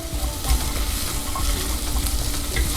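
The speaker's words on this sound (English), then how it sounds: "Gonna go in and get a nice sizzle." Poblano, red bell pepper and garlic sizzling in olive oil in a pan, a close, steady, loud crackling fry with soft stirring scrapes and no voices.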